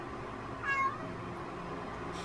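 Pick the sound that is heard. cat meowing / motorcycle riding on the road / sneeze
cat meowing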